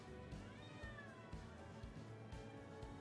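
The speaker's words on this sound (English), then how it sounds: "And a cat in the distance. Whose cat is screaming?" A cat yowls and meows somewhere off in the distance beside a balcony with a grill, several drawn-out, wavering cries rising and falling over steady background noise.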